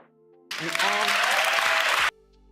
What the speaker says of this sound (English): Why are they clapping for this?